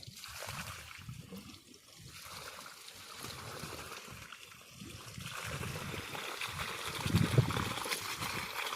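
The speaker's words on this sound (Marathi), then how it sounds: "आपण आता सध्या आपल्या सोयाबीनला पाणी चालू केले वरच्या साईडला" Water trickles and gurgles steadily from an irrigation pipe onto a soybean field outdoors, a soft continuous flow with occasional splashing, fairly quiet.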